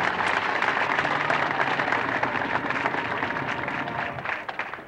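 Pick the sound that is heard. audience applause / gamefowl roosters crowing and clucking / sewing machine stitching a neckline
audience applause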